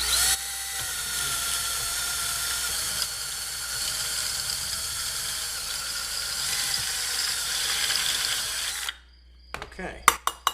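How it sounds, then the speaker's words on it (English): A drill whines steadily while boring jack holes into a pedal board box, running close and continuously for several seconds before stopping, followed by a few sharp clicks and knocks. "so there we have all the holes for the jacks drilled"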